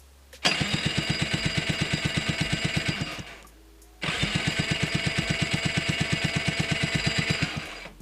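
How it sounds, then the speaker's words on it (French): A starter motor cranks a Rotax 125 two-stroke engine after a top-end rebuild, with choke on and throttle wide open, in two rapid, evenly pulsing cranking runs of about three seconds each, separated by a short pause. The sound is close and steady, and the engine does not catch. "on met le starter, gaz à fond, et on fait tourner un peu le démarreur."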